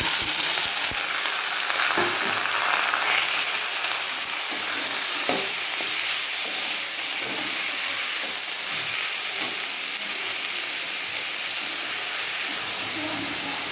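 Boiled banana stem frying with bay leaf in hot oil gives a continuous, dense sizzle, close and fairly loud, with occasional stirring knocks and scrapes throughout.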